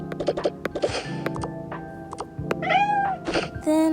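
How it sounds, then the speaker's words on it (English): A pet cat meowing just before being fed at home in the morning, several short, close meows and chirps in quick succession alongside small rustling and handling sounds. "We're just gonna go ahead and feed my cat Milo."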